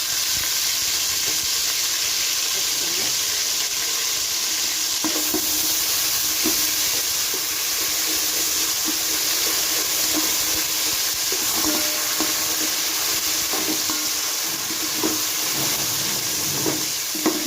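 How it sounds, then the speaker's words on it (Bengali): Ginger-garlic paste frying in oil in a pan, being stirred for bagara rice; a steady, fairly loud sizzle and hiss runs throughout, with faint scraping stir strokes now and then and no talking. "ভালো করে নেড়ে চেড়ে নিতে হবে যাতে কাঁচা গন্ধটা চলে যায় আদা রসুনের।"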